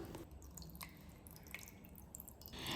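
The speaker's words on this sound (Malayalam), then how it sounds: "ഇനി ഇത് നമുക്ക് തണുത്ത വെള്ളത്തിലൊന്ന് മുക്കി ജസ്റ്റ് ഒന്നും കൂടെ ഒന്ന് മുക്കിയെടുക്കാം" Homemade mozzarella cheese dipped into a bowl of cold water gives soft, close drips and wet squishing splashes that come and go over a few seconds in a quiet kitchen.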